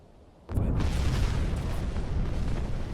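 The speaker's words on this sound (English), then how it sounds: "you saw the depth charges exploding in the air" Depth charges exploding in the submarine game Uboat: after a half-second of quiet, a heavy deep boom erupts and rolls on as a loud, sustained rumble to the end.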